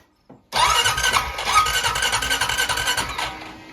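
Honda Rubicon 520 DCT ATV engine cranked over on the starter with no fuel after a valve adjustment, a loud rapid whirring crank running steadily for about three seconds without catching, no talking.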